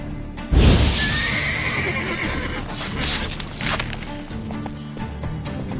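The horse Roach in a video game gives a loud neigh, with hoofbeats and game sounds continuing beneath it at close range.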